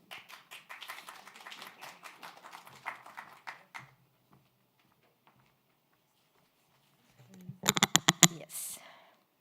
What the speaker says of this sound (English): Please, big applause.